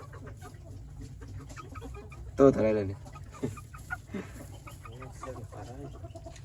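A native Thai chicken clucks in a few short bursts, one louder call standing out near the middle, while someone talks in the foreground over a steady low hum.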